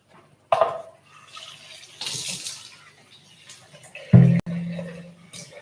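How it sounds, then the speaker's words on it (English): Tap water runs briefly into a cooking pot as it is rinsed out, with soft splashing and dribbling, a louder gush near the end, and no talk over it. "I'm going to very quickly rinse this out"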